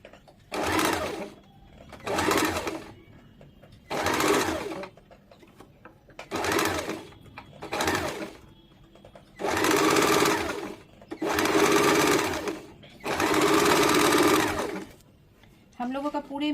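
A picot machine hems the fabric edge of a baby frock in repeated loud whirring runs, each a second or two long, with short pauses between them, and the later runs grow longer.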